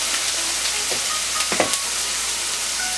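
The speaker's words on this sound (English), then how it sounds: "make sure most of the water is off of these, because otherwise it's gonna sizzle into this oil pan" Wet bok choy stems hit hot oil in a pan and fry with a dense, steady sizzle, broken by a few brief crackles and stirring scrapes up close.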